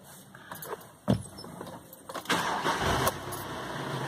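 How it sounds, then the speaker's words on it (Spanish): A VW Amarok pickup with a battery that is not charging cranks and its engine starts: a brief crank burst, then a louder steady running roar from close by, with no talk over it. "Le damos arranque."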